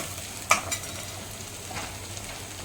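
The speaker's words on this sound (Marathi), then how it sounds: "आता त्याला आपण ढवळून घेत आहोत कारण खाली कढईला ते चिकटूने लागू नये म्हणून" Ginger-garlic paste stirred in a kadhai, a quiet continuous scrape and faint sizzle with one sharper tap of the spoon near the start, no voices.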